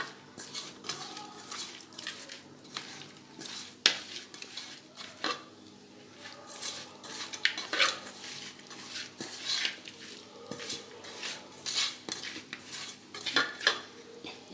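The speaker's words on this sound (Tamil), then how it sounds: "இப்போ எல்லாத்தையும் சேர்த்து மிக்ஸ் பண்ணிடலாம்" Clinking and scraping of a utensil against a bowl as fish is mixed with spices, with irregular knocks and clatters close by.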